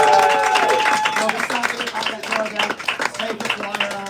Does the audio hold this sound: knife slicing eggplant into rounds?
no